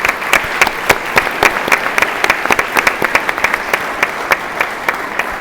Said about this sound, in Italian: allora io li accomunerei tutti in un applauso di ringraziamento.